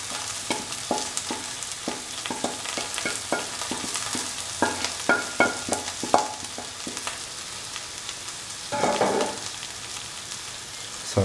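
Mixed vegetables with tomatoes, coriander powder, garam masala, turmeric and salt sauté in a pan, a steady close sizzle punctuated by rhythmic spoon stirring and scraping strokes.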